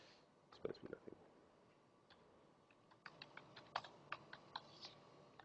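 Someone types in quick bursts on a computer keyboard whose keys are not working properly. The clacks are close and fairly quiet, with a cluster early on and a steadier run of taps later.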